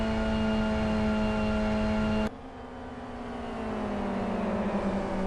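Touring car engine in a 2009 championship race, heard from the onboard camera: a loud, steady high-pitched drone that suddenly drops at a gear change or lift, then builds again as revs climb, with no talking.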